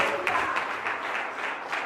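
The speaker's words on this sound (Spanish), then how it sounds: "Dale el aplauso al Señor." A church congregation claps for the Lord, a short, fairly soft burst of steady applause heard from a distance in a reverberant hall.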